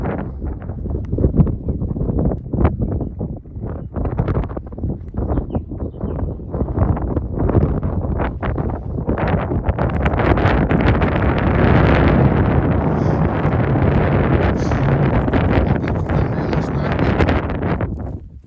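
Strong wind buffets the microphone continuously on open moorland in North Yorkshire, a loud rumbling roar that swells and stays steady throughout with no voices.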